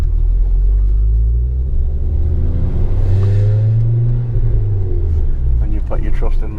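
A REVO Stage 4+ tuned car pulls away with a deep, loud engine rumble that swells as it accelerates, heard from inside over steady road noise, with people talking over it.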